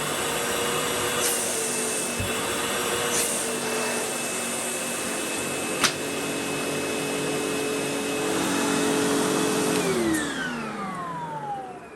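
Sanitaire EON QuietClean S5000A commercial upright bagged vacuum cleaner running steadily with a continuous whirring motor hum and airflow, close by, then winding down near the end.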